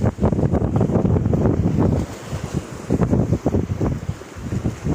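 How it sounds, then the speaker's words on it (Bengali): Strong wind buffets the microphone over rough, fast-moving waves on the Panchamukhi river near the Bidyadhari during Cyclone Remal, a loud continuous roar with surging gusts and no talk. "দেখো ঢেউটা কত গতিবেগে হচ্ছে।"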